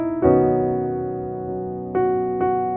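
Piano sounds sustained gospel jazz chords from The Old Rugged Cross voiced closely with the melody lowered, three chords struck in turn and left ringing, played alone.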